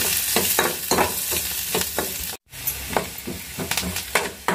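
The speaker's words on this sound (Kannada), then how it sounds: "ಫ್ರೈ ಅದು ಉಳ್ಳಾಗಡ್ಡೆ." Onions fry in a pan with a steady, loud sizzle, broken by a brief dropout midway, with repeated scraping stirs throughout and no talking.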